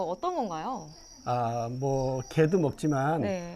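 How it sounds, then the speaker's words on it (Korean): A constant high, thin chirping of two-spotted crickets on a cricket farm runs steadily in the background while two people converse in the foreground. "귀뚜라미가 소리가 들리고 귀뚜라미가 옆에 보이는데"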